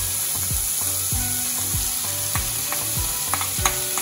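Crispy honey chilli potatoes sizzling on low heat in a pan, stirred with steady repeated scraping strokes over a constant close frying hiss, no voices.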